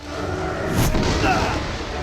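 A grenade launcher fires in Resident Evil 7, one deep, heavy boom that swells and rumbles out over about a second, loud and close.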